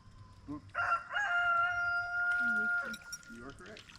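A rooster crows beside a lake during a bass fishing tournament weekend, one long drawn-out cock-a-doodle-doo at mid distance, with people talking around it.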